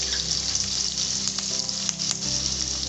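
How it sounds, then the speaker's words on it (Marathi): Finely chopped green chillies fry in oil over low heat for a bhendi bhaji, giving a steady close sizzle with light crackles and faint stirring, no one speaking. "आता आपण मिरच्या घालून घेऊया बारीक चिरलेल्या"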